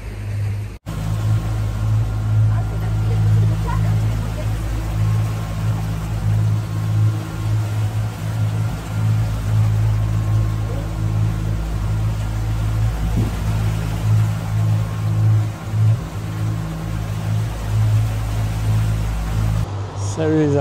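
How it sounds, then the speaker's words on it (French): Twin boat engines idling at low revs on a calm, windless ocean during a sailing passage, a steady low drone with a faint hum running throughout at close range. "vous entendez ce petit bruit sympathique, c'est nos deux moteurs qui tournent à bas régime"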